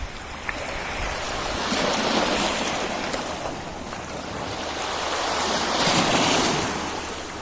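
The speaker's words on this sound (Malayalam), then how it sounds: "നേരെ കടലിൻ്റെ അടുത്തേക്ക് വന്ന്" Sea waves wash onto a Maldives shore where people are fishing, a steady broadband surf roar that swells in two broad surges, with wind buffeting the microphone throughout.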